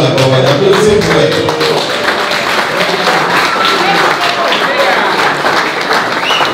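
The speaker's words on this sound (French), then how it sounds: "J'ai compris à l'applaudissement." Wedding guests at a Congolese celebration break into applause, a dense, loud, continuous wash of clapping and crowd noise, with a voice talking through it at the start.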